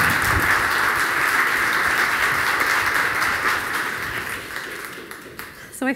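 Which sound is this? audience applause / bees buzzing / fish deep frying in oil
audience applause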